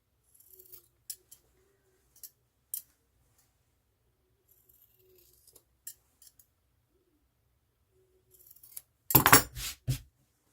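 A few sharp scissor snips, scattered and quiet at first, then a louder burst of close-up cutting near the end.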